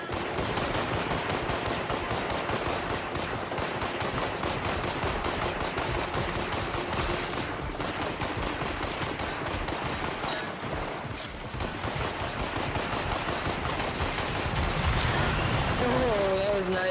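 Tommy gun fire in a first-person video game: dense, rapid, continuous volleys of loud shots filling the whole stretch with hardly a pause, with other game noise mixed in.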